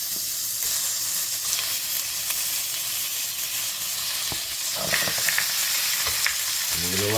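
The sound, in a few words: duck pieces sizzling in hot pan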